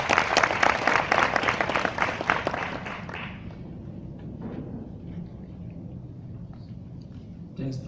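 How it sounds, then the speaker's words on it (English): An audience at a community development event applauds to welcome a district mayor, loud dense clapping for about three seconds that fades into scattered claps and room murmur. "let's welcome him with a round of applause"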